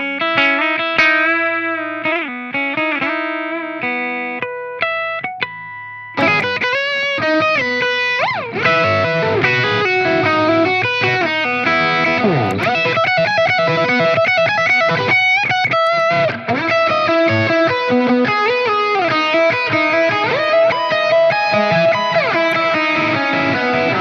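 Distorted electric guitar solo played back from a looper through a chain of physical effects pedals, a sparse clean opening giving way after a few seconds to a loud, dense, saturated lead with chorus and reverb, no talking.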